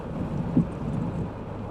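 Steady rain rumbles through a thunderstorm on the drive between Macomb and Quincy, Illinois: a dense, continuous low wash of downpour with a brief louder thump near the start, no voices.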